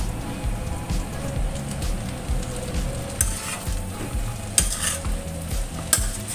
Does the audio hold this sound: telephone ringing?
no